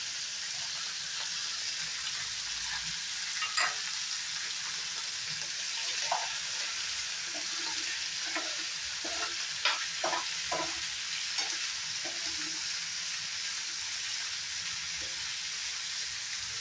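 Capsicum, ginger, garlic and tomato frying in a pan for shahi paneer, a soft steady sizzle under scattered stirring clinks and scrapes, fairly quiet and without speech.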